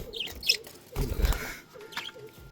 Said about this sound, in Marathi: खूप सारे पक्षी आहेत